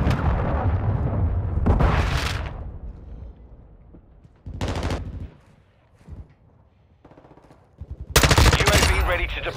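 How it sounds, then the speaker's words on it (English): Heavy gunfire bursts and loud explosive blasts from a cruise missile strike in the Call of Duty: Modern Warfare II video game, arriving in several separate broadband bangs with quieter rumbling gaps between them. "Friendly cruise missile approaching target."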